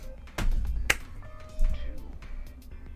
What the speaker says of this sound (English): The bear clapped its hands together